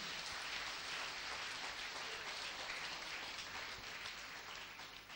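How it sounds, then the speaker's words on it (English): Church congregation clapping in praise during a deliverance testimony service, a dense sustained roar of many hands, distant and even, slowly fading toward the end. "Shall we give a clap of praise to Jesus Christ?"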